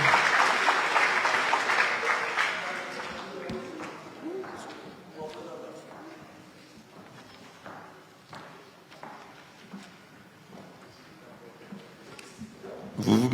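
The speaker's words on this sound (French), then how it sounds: "On applaudit très fort." An audience applauds at a regional ceremony honouring top high-school graduates in Guadeloupe, with loud clapping at the start that thins to scattered claps and shuffling, and a fresh burst at the end.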